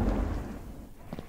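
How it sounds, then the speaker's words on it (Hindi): A lightning thunder crack in the horror video game Eyes: Scary Thriller, set in a dark mansion, opens with a heavy low boom that rolls off into a fading rumble, followed by a faint thud near the end. "अब आया ना कुछ गूज़बम्प जब ये बिजली कड़की यहाँ पे।"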